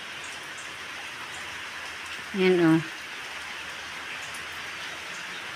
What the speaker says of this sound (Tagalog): Napakasobra na naman po ng ulan ngayong araw na ito.